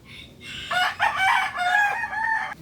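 Rhode Island Red chickens on a small poultry farm, with a rooster crowing loudly and close by in one long call, mixed with clucking.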